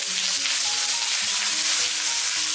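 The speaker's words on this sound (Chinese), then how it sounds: "准备一口铁锅，加入少许食用油，油热之后给它润一下锅， 再下入一把蒜子，然后洋葱也给倒进来" Garlic cloves and onion sizzle steadily in hot oil in an iron wok, a dense, even frying hiss that runs unbroken and close with no talk over it.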